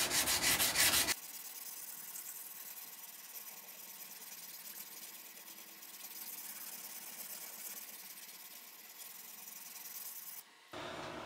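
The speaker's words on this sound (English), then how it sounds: "I'm gonna sand on this for a while and then probably go to the next grit" A knife handle and spine being sanded give off a continuous, even scratchy rasp, with a louder, harsher burst at the start and again at the very end.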